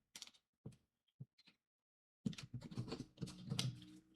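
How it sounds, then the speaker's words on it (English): Quick shuffle of a Smith-Waite tarot deck: a few soft, separate card flicks and taps close by, then a denser burst of riffling and sliding cards, all quiet. "Let's pull 3 cards from the Smith-Waite Tarot deck, but I'm going to go ahead and do just a quick shuffle"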